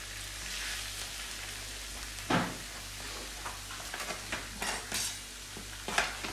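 Salmon fillets fry quietly in a pan, a soft steady sizzle broken by occasional stirring clatters and light taps, with no talk.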